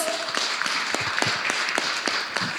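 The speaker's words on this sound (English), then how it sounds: "3, 2, give a round of applause." An audience at a conference gives a round of applause: dense, close clapping with distinct individual claps throughout, fairly loud and steady for the whole stretch.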